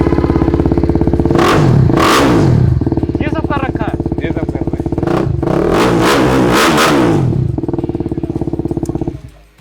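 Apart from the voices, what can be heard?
2020 superbike with aftermarket exhaust revving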